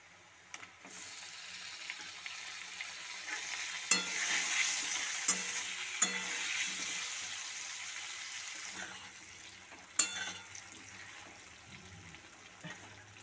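Potato pieces and chunks of tomato fry in a pan with a steady soft sizzle and stirring scrapes, marked by occasional sharp clacks of a spoon against the pan; fairly quiet, no talking.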